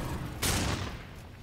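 Gunfire from the video game Darksiders II hits as a sudden loud burst of blasts partway through, then trails off, with low rumble and no talking.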